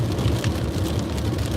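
Steady rain pattering on a moving car, with a continuous low road rumble underneath, close and even throughout without any talking.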